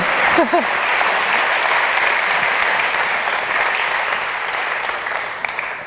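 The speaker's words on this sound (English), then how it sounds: "Warm applause." Warm, sustained applause from an awards ceremony audience at a data journalism event, dense and even crowd clapping that fills the room and tapers slightly toward the end, with a brief voice near the start.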